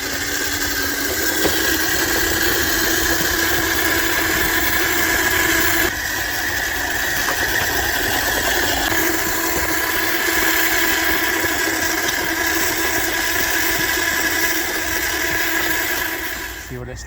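An FTX Outback 3 Paso RC crawler's electric motor driving at speed, a continuous loud whine with a steady drone throughout, close by, briefly fading at the end.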